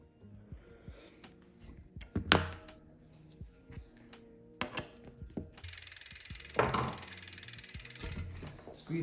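A bicycle wheel on a newly built bike spun backwards, the freehub ratchet giving off rapid light clicking, with separate knocks and handling clatter before a louder steady ticking run, close up.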